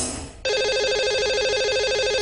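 A telephone rings loud and steady as a call is placed to a radio show caller, the continuous electronic ring starting abruptly after a brief moment of quieter background.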